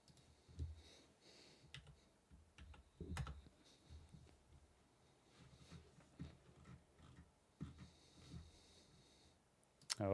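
Scattered keystrokes and clicks tap on a computer keyboard at a home PC setup, faint and close, in sparse irregular clusters over low room noise.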